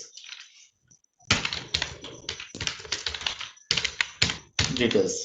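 Fingers type on a computer keyboard while entering text into a spreadsheet cell in Excel, with close, crisp clattering bursts separated by short pauses.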